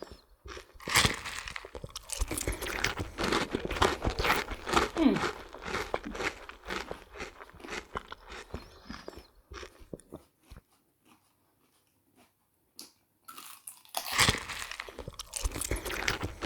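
Crunching bites and chewing of raw garden eggs in close-up mukbang ASMR eating, wet crisp crunches in steady runs, with a quiet pause before chewing resumes; people talk at times.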